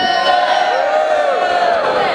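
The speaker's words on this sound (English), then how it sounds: "Who are we booing?" Lecturers and unionists at a union rally boo loudly, many voices forming a sustained, wavering chorus of descending jeers throughout.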